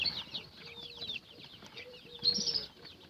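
Twenty-day-old chicks cluck and peep in a lively, continuous chatter of overlapping high chirps, fairly close and clear throughout.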